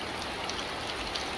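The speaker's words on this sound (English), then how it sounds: "I actually kind of like this rain" Soft rain falls steadily around a stationary car, a faint even patter with no voices over it.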